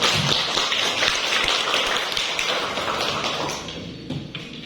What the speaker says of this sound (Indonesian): Kita kasih dulu aplaus kepada teman kita Nando.